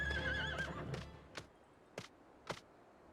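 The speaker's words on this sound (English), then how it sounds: "It's a horse. With a horn on its head." A horned horse, a unicorn-like creature in a Final Fantasy game, whinnies in a bright, wavering neigh at the start, followed by a few short, sharp thumps spaced apart.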